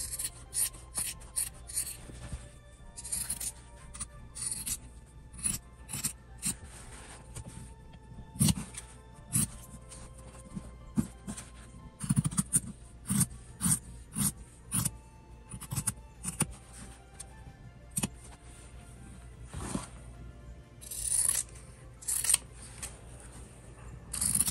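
Fabric scissors snip repeatedly around a sewn wallet card piece, a long run of crisp close cuts and blade scrapes in irregular bursts with short pauses.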